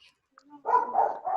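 Several dogs bark in a run of bursts, fairly close and moderately loud, after a brief quieter stretch at the start.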